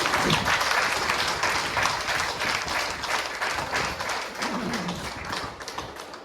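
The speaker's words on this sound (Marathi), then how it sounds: "जोरात टाळ्या देऊया" At the anniversary gathering of a laughter yoga group, an audience claps loudly together. The dense applause holds steady for several seconds and then fades slightly.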